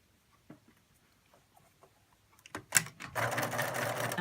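A sewing machine stitches fabric pieces for a quilt block, starting with a few faint clicks and taps, then running in a loud, fast, continuous whir close by.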